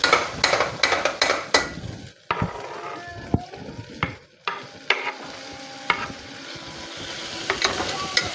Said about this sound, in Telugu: ఇంకా ఇప్పుడు టమోటాలు అయితే వేసేద్దాము.